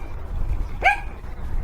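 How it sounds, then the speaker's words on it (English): A single short dog bark or yip breaks out at a distance behind a quiet, steady room background in a home setting, with no other barks following. "I'm a dog lover, so whenever they hear somebody near the property, they all three, Boone, our golden doodle, Wiley, our little"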